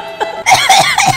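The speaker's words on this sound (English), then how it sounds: "I was just coughing." A few harsh, close coughs in quick succession, raspy and throaty, following a brief quieter breath.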